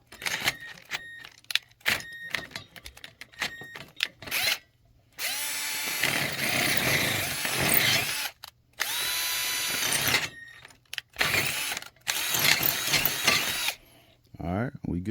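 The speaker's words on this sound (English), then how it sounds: "Drill bit not chewed up or nothing." Power drill boring a hole up through the bottom of an engine, several loud bursts of whining motor and bit grinding separated by pauses, close by, with someone talking between runs.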